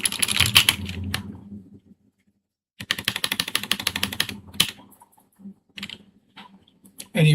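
Fast, loud bursts of keystrokes on a computer keyboard, broken by a silent gap of about a second, then a dense rattling run of typing that trails off into scattered single taps and a final thump.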